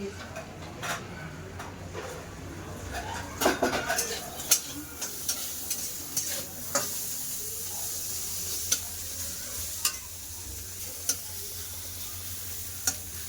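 Food fries in a pan with a quiet, steady sizzle, broken by occasional sharp clicks and scrapes from stirring, heard fairly close with no talk.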